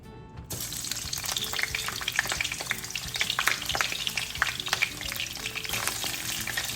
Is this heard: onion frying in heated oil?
yes